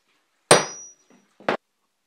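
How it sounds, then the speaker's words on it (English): A sharp metallic strike from center punching a hole, then a softer tap and a second short, bright hit, close up with quiet between them. "we can go ahead and center punch the hole"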